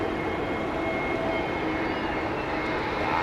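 An airliner lands at Heathrow Airport with its engines on auto throttle, giving a loud, steady broadband roar that fills the whole stretch without letup.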